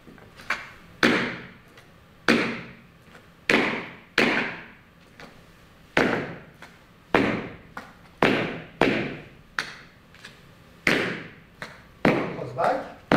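A tap dancer's clunk step sounds as about a dozen loud, sharp heavy thuds of tap shoes on a floor, landing close up in a steady, slightly uneven rhythm, each one ringing out briefly.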